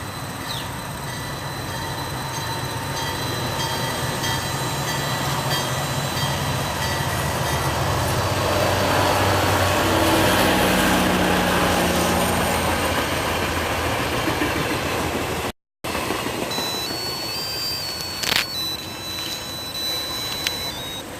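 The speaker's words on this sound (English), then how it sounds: "Now watching the train." Train rolling past on rails, a loud sustained rumble with rattling wagon noise that swells toward the middle, cuts out briefly, then continues with fainter squeals and clanks.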